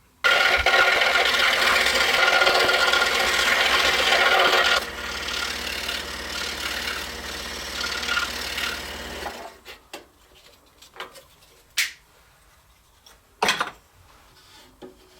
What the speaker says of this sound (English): we're now going to take this over to the scroll saw and cut out all 15 shapes